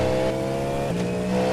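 GT race cars, V8-powered prototypes, accelerating past with a loud steady engine drone whose pitch shifts midway as they go by, close and alone with no talk.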